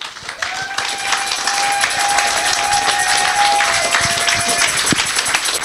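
A church congregation applauds and cheers loudly in sustained clapping that swells and holds, with a high whistle or shout ringing over it and no speech.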